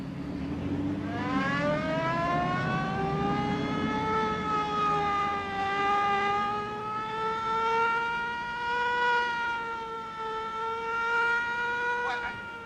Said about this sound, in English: Get your foot off that siren.